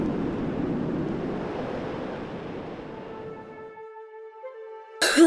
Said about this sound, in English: When the water ran out and the fields went dry, we started getting more and more of these dust storms.